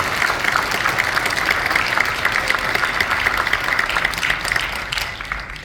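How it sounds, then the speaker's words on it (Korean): Audience at a New Year address in South Chungcheong applauds in a steady, dense wash of clapping that carries on throughout and tapers slightly at the end. "이분들에게도 박수 한번 해주시기 바랍니다."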